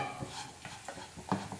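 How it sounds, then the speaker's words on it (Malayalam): Spoon stirring beaten rice (aval) coated in jaggery in a pan for Kerala-style aval vilayichathu: soft, faint, continuous scraping and rustling with gentle rhythmic strokes. "എന്നാലും കുറച്ച് സമയം ഇതുപോലെ ഒന്ന് ഇളക്കിയെടുക്കാം."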